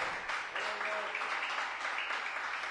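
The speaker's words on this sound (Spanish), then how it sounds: "Denle un aplauso al Señor." Church congregation clapping for the Lord during a Spanish-language service, a steady, dense wash of hands that stays even and moderately loud throughout, with no distinct pauses.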